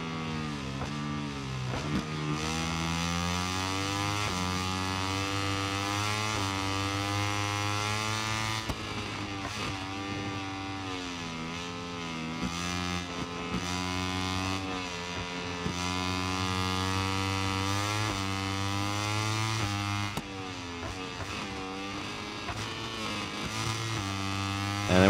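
A MotoGP 22 racing motorcycle engine holds a loud, sustained high rev with a steady harmonic drone, pitch dipping and climbing through gear changes and throttle lifts at about 2, 9 and 20 seconds.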